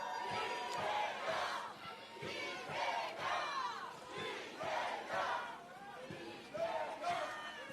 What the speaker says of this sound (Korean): 큰 함성으로 들어보겠습니다